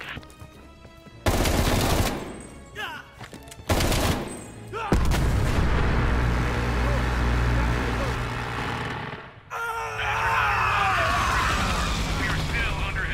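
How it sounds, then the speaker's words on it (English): Heavy gunfire and artillery in Call of Duty: Cold War: loud bursts of automatic fire and booming blasts, close and intense, with a sustained roar of combat and shouted voices in the mix. "We are still under heavy fire."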